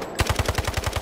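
Rapid automatic gunfire from a weapon in the firing range of the mobile video game Delta Force Mobile: a quick, evenly spaced burst of about ten punchy shots, loud and close, with no talk.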